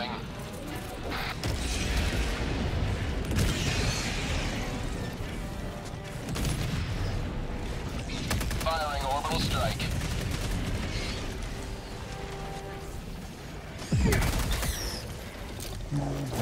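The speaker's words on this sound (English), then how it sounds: "Unleashing the orbital strike incoming." Orbital strike explosions in Helldivers 2 during a solo fight against bugs, heard as repeated heavy blasts and bursts of gunfire in a dense, continuous barrage with people talking over it.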